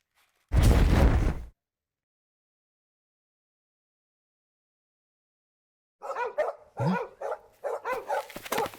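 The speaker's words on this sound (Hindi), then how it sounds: "अपने डॉग्स बहुत भौंक रहे हैं" Dogs bark in a Hindi-dubbed horror film scene: one loud, close burst, a long silence, then a run of sharper, quicker barks and yips.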